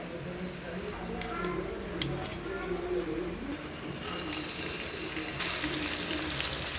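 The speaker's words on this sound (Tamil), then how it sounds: "நம்ம எண்ணெய் ஊற்றி மீன் பொரிச்சிடலாம்" Steady sizzling of fish frying in hot oil, a continuous crackling hiss with faint background chatter and bird calls.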